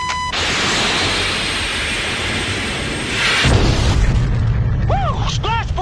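A fighter jet fires a missile: a loud, sustained rushing roar gives way to a deep booming rumble, with brief voices near the end.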